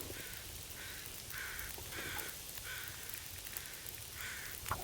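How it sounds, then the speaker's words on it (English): Crows cawing in The Long Dark, Interloper mode in Pleasant Valley: a steady run of rhythmic caws, fairly faint, over a constant wind-like hiss with no talking. "And yes, his crows sound different than these crows."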